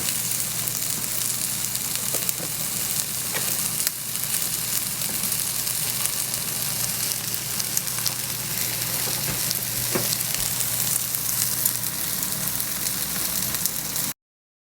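Tuna and anchovies fry in an oiled pan, a steady close sizzle that keeps going without break and is broken only by occasional soft stirring scrapes.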